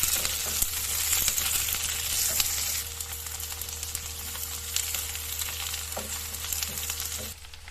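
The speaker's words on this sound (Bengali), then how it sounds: "আমি তেলের উপরে ভিন্ডিগুলো দিয়ে দিয়েছি। হালকা ফ্রাই করে নেব" Okra frying in oil in a pan, a steady loud sizzle with scattered pops and crackles, close and continuous, easing slightly partway through, with no talking.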